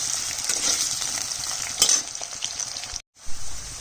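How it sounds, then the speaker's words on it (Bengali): Potatoes frying in fish-frying oil in a pan, a steady close hiss and crackle of sizzling oil with a faint clink of a utensil near the end. "আলুটা একটু লাল করে ভাজবো"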